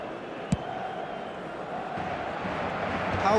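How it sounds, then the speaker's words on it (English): A stadium crowd in an eFootball 26 match, Real Madrid against Barcelona in El Clasico, keeps up a steady broad roar throughout, rising slightly toward the end, with one brief sharp shout near the start. "Certainly gave this crowd something to really cheer about."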